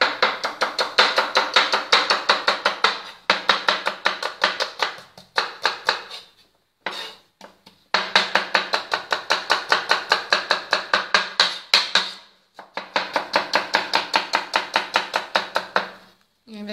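Rapid, steady knife chopping of ingredients for Thai chicken larb on a cutting board, close and loud, in long bursts of quick even strokes separated by brief pauses, with no talk over it.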